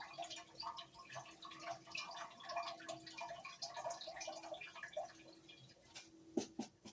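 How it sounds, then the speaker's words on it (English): Rice being washed in water in a home kitchen: faint, close splashing, swishing and dripping with small trickles, ending in a couple of sharper clinks. "Let's wash the rice."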